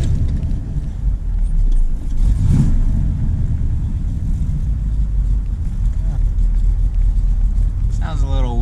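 A 1979 Corvette engine idles and warms up, a steady low rumble close by with a brief rise in revs partway through.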